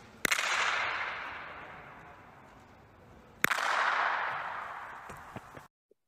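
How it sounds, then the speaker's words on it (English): Two sharp handclaps in the center of a large circular LED volume stage with a ceiling, each followed by a long, bright reverberant tail ringing out for about three seconds. "this is what it sounds like when I clapped in the center of a large LED circular volume with a ceiling"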